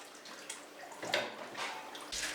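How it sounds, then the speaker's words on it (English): Melon seeds rinsed under running tap water give a faint, soft splashing and trickling with small irregular spatters, quiet and close, with no talk. "Simply rinse the seeds under water"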